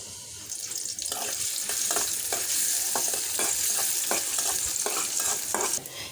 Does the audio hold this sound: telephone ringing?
no